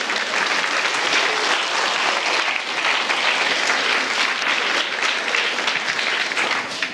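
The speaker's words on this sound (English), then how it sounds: "So a round of applause for very useful and beautiful potassium." An audience applauding at a periodic table science show, dense sustained clapping from many people, even and loud throughout with no breaks.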